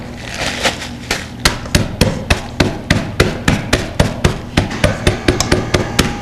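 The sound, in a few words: pounding ginger snap cookies into fine crumbs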